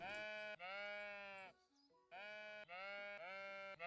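Sheep bleating in a video game, a run of loud, close, drawn-out tonal bleats with a short quiet gap in the middle, no talking.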